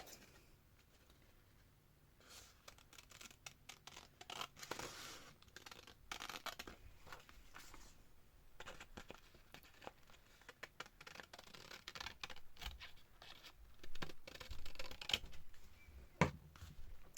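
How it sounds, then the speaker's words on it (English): Soft, close snipping and rustling of scissors cutting paper, quiet and intermittent, with no voices. "And I'm going to be brave and do that with my scissors."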